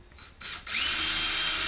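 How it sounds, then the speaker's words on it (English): Small power drill boring a hole with a small bit through a sheet-metal weld-on trap pan on a Mercedes-Benz 550; after a brief start-stop, a loud steady high whine runs alone. "I'm just drilling an easier hole here with a smaller bit"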